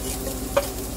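Capsicum tossed into onions sizzling in a pan for Mumbai-style kanda poha, a brief close frying hiss with one quick clink of the spoon.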